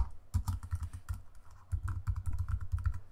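Close, quiet keystrokes on a computer keyboard come in quick bursts as a theme name is typed, with a short pause between flurries.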